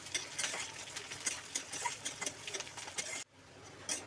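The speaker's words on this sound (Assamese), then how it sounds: "এতিয়া এইখিনি লাল হোৱালৈ ধুনীয়াকৈ ভাজিব লাগিব" Onions, green chillies and bay leaf are stir-fried in oil in a home kitchen, with quiet, rhythmic scraping strokes and a soft sizzle, briefly dropping away before one more stir.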